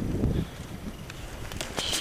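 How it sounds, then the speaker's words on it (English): Cold wind gusting outdoors, a low rumbling buffet against the microphone early on, then a steadier breezy hiss with a few brief rustles and higher gusts near the end. "it's cold and windy"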